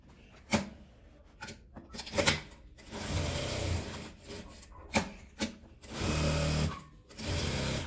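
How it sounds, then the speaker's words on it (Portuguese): A sewing machine stitches around the edge of a crochet needle case, running in several short bursts of whirring with brief pauses between them, close and fairly quiet. "Agora eu vou costurar em volta dela toda."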